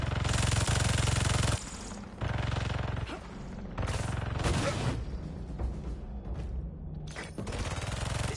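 Turret gunfire in Spider-Man 2, long loud sustained bursts of rapid fire broken by short pauses and crashing impacts across the scene.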